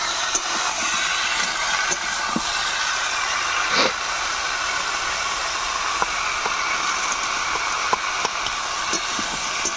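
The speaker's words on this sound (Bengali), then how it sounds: "দেখো কাঠের উনুনে এখন রান্না হচ্ছে" Vegetables cook on a wood-fired stove, giving a continuous close hiss with scattered sharp crackles and pops throughout, and no voices.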